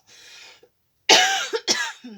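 A soft breathy sound, a pause, then two loud close coughs in quick succession.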